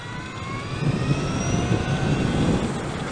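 A Zener-Ecite 2020 all-electric project trike accelerating in first gear, giving a steady loud whine with rising tones over heavy road and wind rumble, close and continuous.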